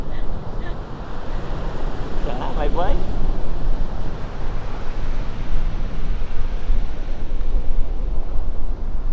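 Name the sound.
ocean waves at the beach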